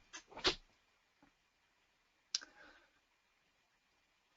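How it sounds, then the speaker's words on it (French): A computer mouse gives a few sharp clicks, a quick pair at the start and another click about two seconds later, close and clear against near silence. "Donc on clique dessus."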